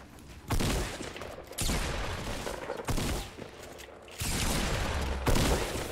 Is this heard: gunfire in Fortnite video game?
yes